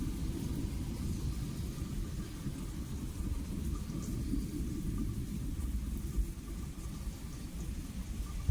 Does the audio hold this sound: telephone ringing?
no